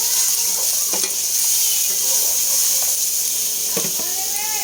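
Garlic hits hot oil in a pan for chicken adobo with egg, giving a steady close sizzle with a few scraping stirs and clinks of a utensil against the pan.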